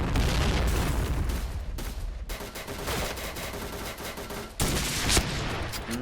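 Rapid, dense gunfire from the K-2 rifle in the Point Blank video game, continuous loud bursts of automatic shots filling the whole stretch, with a few brief gaps and no voices.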